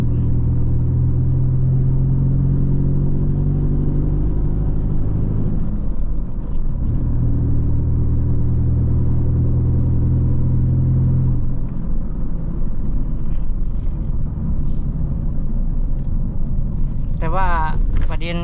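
Car engine rumbling steadily from inside a moving car while driving and accelerating on a Thai road trip between Chachoengsao and Nong Chok, with the low drone rising in pitch throughout and brief noises near the end.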